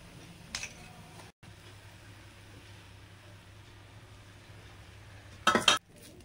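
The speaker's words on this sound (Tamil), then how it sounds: "உதுத்து வச்ச சேமியா எடுத்து போட்டு நல்லா மிக்ஸ் பண்ணிடுங்க" Egg vermicelli is tossed and stirred with chicken pakoda in a pan, giving a faint low scraping and soft sizzle with a louder clatter of the spoon against the pan near the end.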